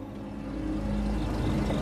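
A car drives off with a low, steady engine whir that grows slightly louder over a couple of seconds, heard alone.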